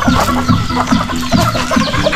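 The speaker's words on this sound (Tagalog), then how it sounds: "Yan yung ating mga manok, oh." Free-range native chickens cluck steadily while feeding on corn, a close chorus of repeated short clucks and calls in a busy rhythmic pattern.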